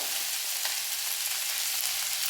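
Vegetables fry with ginger and cumin in a pan, giving a steady, dense sizzle that holds evenly throughout with no talking.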